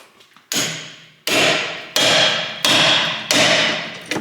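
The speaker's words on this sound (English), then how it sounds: "bang it with a hammer" Five heavy metallic hammer blows on a Volvo ball joint and control arm at a steady pace, each ringing out and decaying before the next strike, close and loud.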